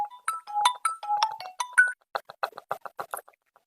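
A mobile phone ringtone plays alone: a bright electronic melody of short repeated beeping notes, followed by a second burst of quicker chirping pulses.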